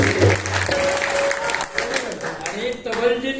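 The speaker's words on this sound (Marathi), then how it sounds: "एकदा टाळ्या वाजवूया" An audience at a Geet Ramayan performance in Pune applauds, the clapping ongoing beneath a voice speaking over it.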